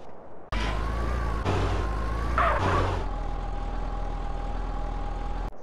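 A car engine runs in the GTA video game, a steady droning hum with a sustained siren-like tone layered over it, loud and continuous after a brief quiet start.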